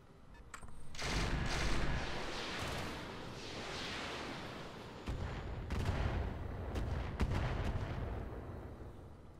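Mech weapons in the game Roguetech unleash a loud, sustained barrage of cannon and autocannon fire, overlapping blasts and booms rolling continuously for several seconds with sharp cracks and a brief lull midway, with no talking.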